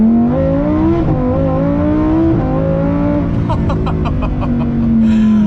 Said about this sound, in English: Lamborghini claims they've retuned the exhaust and made it sharper and more exciting